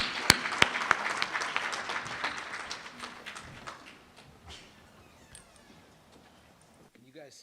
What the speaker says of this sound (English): let's give John a round of applause, and he's going to entertain us.